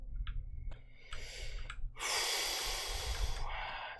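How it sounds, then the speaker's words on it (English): Heavy breaths from a person, a couple of sharp inhales followed by a long, loud, airy exhale close to the microphone, with no speech. "deep breathing, deep breathing."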